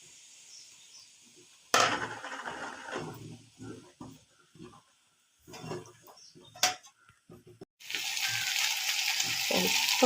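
Egg poured into a hot pan hits with a sudden sizzle, followed by intermittent crackles and clinks, a pause, then a loud steady frying hiss that builds at the end, close up with no talk.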